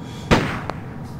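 One sharp video game gunshot cracks out over a steady synthetic background hum, followed by a smaller click a moment later.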